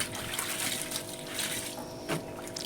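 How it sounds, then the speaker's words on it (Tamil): Water pours steadily into the tub of a semi-automatic washing machine as it refills for rinsing, a continuous close splashing rush with no voices. "இப்போ வேறு தண்ணி மறுபடியும் பிடிக்கிறேன்"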